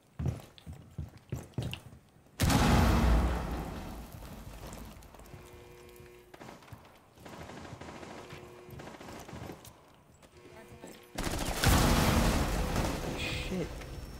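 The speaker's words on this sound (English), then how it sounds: "throwing frag grenade" Two loud, sudden explosions from frag grenades in Rainbow Six Siege, one early and one near the end. Each is a sharp blast followed by a sustained roar of debris and rumble, with quieter gameplay sounds and clatter between them.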